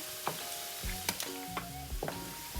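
Crispy pork fries in hot oil with pandan leaves. The oil sizzles and bubbles steadily, close up, with scattered sharp pops and crackles and no talk.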